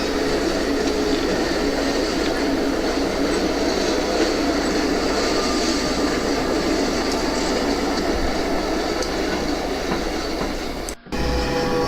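Steady rumbling model train noise from four old DC-layout locomotives, rattling wheels and a continuous mechanical drone throughout, loud and close, with a brief dropout near the end.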